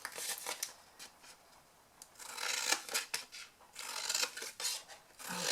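Scissors trimming papercraft wedge pieces for a Valentine's box, heard up close as a run of short snipping and rasping cuts with paper rubbing between them.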